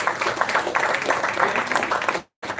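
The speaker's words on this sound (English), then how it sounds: "Big round of applause to all the organizers" An international conference audience applauds its organizers with a dense, sustained wash of clapping that cuts off abruptly near the end before resuming briefly.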